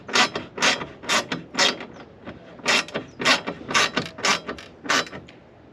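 A 1/4-inch ratchet with a Torx bit driving a bolt while mounting a Rough Country 50-inch LED light bar on a Jeep Gladiator, giving a rhythmic series of close, crisp clicking bursts with short pauses between strokes.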